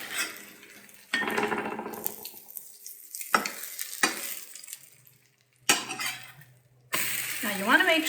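Cinnamon French toast fries in a pan, with bursts of sizzling broken by quiet gaps and the scrape and clink of a utensil against the pan.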